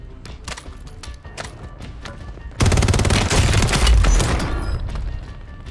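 Video game gunfire starts abruptly midway as a loud, sustained burst of rapid shots and booms, following quieter scattered clicks and taps, with no talking over it.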